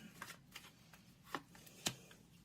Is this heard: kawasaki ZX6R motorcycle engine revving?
no